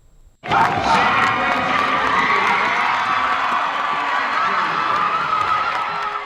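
Members of the SAU cheer team erupt in loud, sustained screaming and cheering after learning they won their first NAIA National Championship, the shrill crowd of voices bursting in suddenly and holding at full volume throughout.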